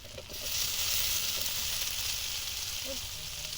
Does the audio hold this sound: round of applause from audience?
no